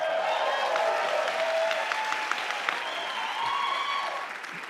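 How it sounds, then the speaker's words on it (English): A game-show studio audience applauds steadily, dense clapping with scattered whoops and cheers at fairly close range, holding level before easing off slightly at the end. "lot of people out here clapping for you"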